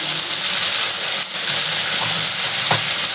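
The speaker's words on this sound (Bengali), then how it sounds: "এবার আমি এর মধ্যে একটু জল দিয়ে দিচ্ছি" Water poured into hot oil with bay leaf and five-spice tempering for a vegetarian cabbage curry gives a loud, steady sizzle and hiss, with stirring clinks along the way.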